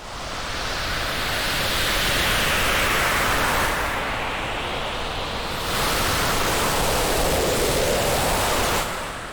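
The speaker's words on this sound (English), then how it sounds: "Like if there's a lot of rain or wind or something hitting a microphone" Loud, rough noise from a degraded Arturia Pigments 4 storm preset, like heavy rain and wind buffeting a microphone, with a couple of brief dips and shifts in texture before it continues.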